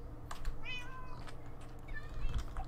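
Cats in Minecraft meow a couple of times, short rising mews over a low rumbling background, fairly close with no one talking.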